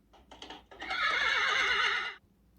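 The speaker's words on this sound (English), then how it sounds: "Horse." A horse neighs once in a loud, drawn-out whinny of about a second and a half, preceded by brief softer snorts, then quiet.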